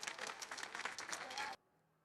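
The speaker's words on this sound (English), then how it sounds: "That's going to get some claps." Crowd clapping at a Laver Cup doubles tennis match after a drop volley, a dense burst of applause lasting about a second and a half before cutting off abruptly to near silence.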